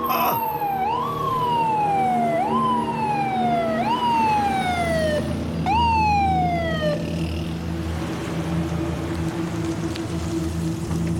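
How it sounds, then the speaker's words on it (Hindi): A wailing siren sweeps repeatedly up and down, loud and close over steady traffic rumble, then cuts off, leaving engine noise. "एम्बुलेंस आने वाली है"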